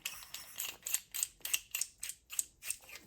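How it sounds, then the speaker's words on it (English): A fork cap being threaded by hand onto a Ducati DesertX motorcycle fork gives a steady series of about ten light metallic ratcheting clicks, close and fairly quiet, with no talking. "drop your fork cap in place, enough to start the threading process"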